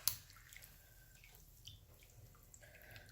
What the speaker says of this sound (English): it'll actually squeeze out a lot of the water